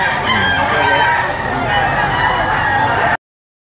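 A gamefowl stag at a rooster sale in Lipa, Batangas, crows loudly and close by, one sustained crow lasting about three seconds before it cuts off abruptly.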